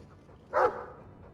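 Mabari war dog in Dragon Age 2 giving a single short, close bark-like vocal burst, set against a quiet background.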